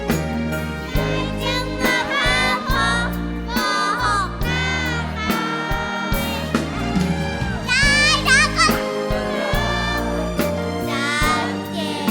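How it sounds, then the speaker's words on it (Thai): Children in a Thai concert audience cheering and shouting, a loud crowd of young voices over pounding live music with a steady bass beat, bursts rising and falling throughout. "ขอเสียงเด็กๆอ่ะ"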